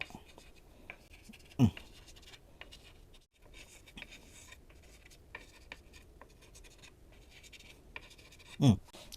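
A pen scratches out a Thai yantra on a surface in quiet, continuous strokes, soft and close, with a couple of sharper taps and a faint voice in the background.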